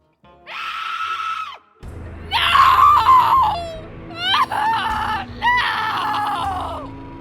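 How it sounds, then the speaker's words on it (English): A woman screams in terror, several shrill, wavering shrieks in succession, loud and close, with a shorter cry at the start. "he heard the horrible sound of a woman's terrified scream"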